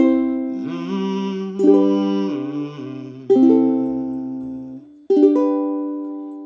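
A ukulele plays the chords of a song with four simple down strums, each ringing out and fading before the next, heard alone.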